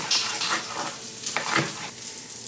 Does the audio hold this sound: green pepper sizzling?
yes